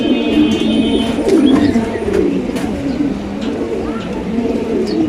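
Pigeons cooing close by in low, throaty rolling calls, repeating over a background of faint chirps.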